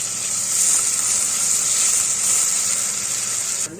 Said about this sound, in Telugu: ఫస్ట్ ఉల్లిపాయ, పచ్చిమిరపకాయ వేసుకొని కాస్త మగ్గిన తర్వాత టమాటా వేసుకున్నాం.